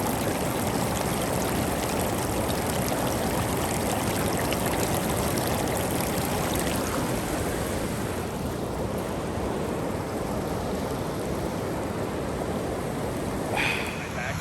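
A mountain creek near Castleguard Meadows flows in high water, a dense, loud, continuous rushing roar close by with no break.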